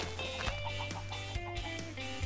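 Chicken clucking in the Minecraft Pixelmon game, short repeated clucks over a steady droning game background hum, fairly close and continuous for a couple of seconds.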